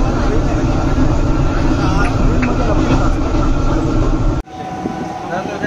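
Train rolling along rails heard from inside a carriage on a Mumbai-area ride, a steady loud rumble that cuts off abruptly near the end and leaves a quieter cabin hum, with faint voices in the background.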